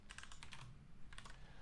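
Quick bursts of typing on a computer keyboard: a rapid run of clicks, a short pause, then another cluster of keystrokes, all faint and close with no talking.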